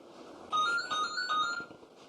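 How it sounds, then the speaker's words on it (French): A phone ringtone plays a repeating electronic melodic pattern of short beeping notes, moderately loud and close over faint room noise, then stops. "Il y a ton téléphone qui sonne."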